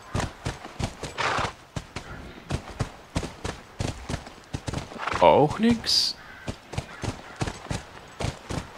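Horse hooves clip-clop in a steady walking rhythm in The Last of Us video game, with a brief whinny partway through and someone talking over the footfalls.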